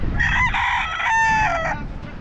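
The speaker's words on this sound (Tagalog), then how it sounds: "Ang daming manok dito, mga pansabong." A fighting-breed rooster crows loudly nearby in a long drawn-out call at a fishpond farm, with faint background noise and a brief cluck-like sound afterward.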